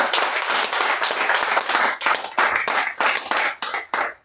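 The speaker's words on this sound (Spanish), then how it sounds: "Ese aplauso, si se lo vas a dar al Señor, dáselo fuerte." Loud, dense applause from a church congregation, many hands clapping together steadily with a few swelling pulses, sustained without talk.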